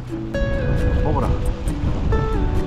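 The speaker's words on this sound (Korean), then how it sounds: "파도도 너무 높아지고. 바람이 너무 불어서 이제 철수해야 될 것 같습니다." High sea waves and strong wind roar steadily at the shore during squid fishing, a dense continuous rush under a person talking.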